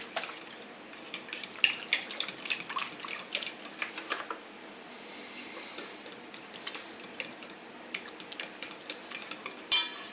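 Bread dough ingredients being stirred with a utensil in a bowl, giving a run of quick scraping, clinking taps close up, steady and busy with a brief lull midway, no voices.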